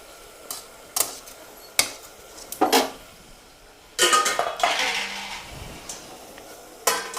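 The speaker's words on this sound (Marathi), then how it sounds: "आणि परत ह्याच्यावर ताट झाकून आपण ठेवून देऊया." A metal plate set down over a pot as a lid while sabudana khichdi cooks, giving several sharp clinks and clatters of metal on metal at varied intervals, close and moderately loud.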